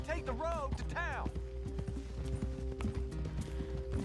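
Horse riding in the Red Dead Redemption 2 video game: steady, rhythmic clip-clop of hooves on a road, close and continuous under a player's talking.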